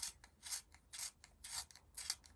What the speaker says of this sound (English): You're supposed to turn the sharpener to sharpen your pencils